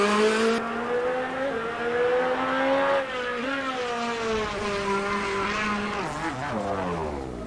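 Rally car on a gravel section of a stage at the Mecsek Rally, Eastern European Rally Championship, the engine revving hard with pitch rising and dropping through gear changes, loud and steady before easing off into the distance.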